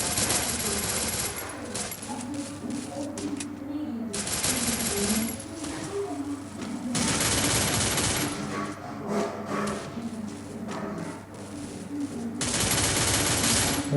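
Rapid gunfire in the Free Fire mobile game during headshots, sustained bursts separated by short gaps, loud and close, with other game sounds underneath.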